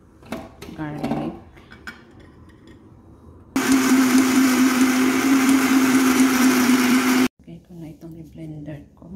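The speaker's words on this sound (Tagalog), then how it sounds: "Blender ko." A kitchen blender whirs loudly and steadily for several seconds, blending onion and garlic for a grilled fish sauce, starting and stopping abruptly, with a person talking before and after it.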